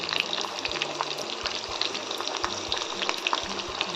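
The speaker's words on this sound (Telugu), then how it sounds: "ఆయిల్ హీట్ అయ్యాక సన్నగా తరిగిన ఉల్లిపాయలు, సన్నగా తరిగిన వెల్లుల్లి" Finely chopped onions and garlic fry in hot oil with a steady, close crackling sizzle, punctuated by light clinks and scrapes of a spoon or pan, no voices present.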